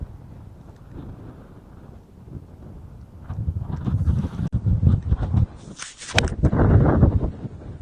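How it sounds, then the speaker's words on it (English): Strong wind buffets the microphone on a golf course, rising from a low rumble into loud, gusty roaring bursts in the second half. "Oh God, a ton of wind."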